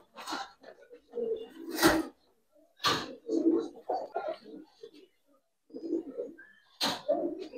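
Pigeon calls from a Giribaz Budapest silver pigeon at a farm, a few soft bursts scattered between stretches of nearby speech, close and moderately loud.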